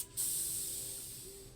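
A spray is applied in one continuous, close hiss that starts abruptly after a short pause and slowly tapers off.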